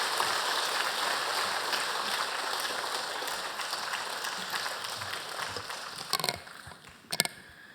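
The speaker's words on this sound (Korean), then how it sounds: "우리 한번 격려의 박수 보내주시기 바랍니다." Church congregation applauding for a pastor during a Sunday service, a steady broad patter of many hands filling the room before fading, with a couple of sharper knocks near the end.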